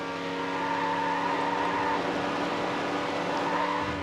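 Race cars tearing through a championship event in the video game Need For Speed Hot Pursuit 2, sustained high engine whine with shifting pitch as cars run close together, loud and constant throughout.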